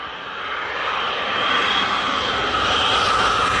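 An F-22 fighter jet carrying drop tanks roars past, a loud continuous engine rumble and hiss that swells and holds for a few seconds before cutting off abruptly.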